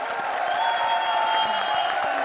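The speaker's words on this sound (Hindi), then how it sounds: "So give them a very big hand." Studio audience of the Comedy Circus 3 comedy show applauds steadily and fairly loudly, a dense patter of many hands with a sustained musical tone ringing over it.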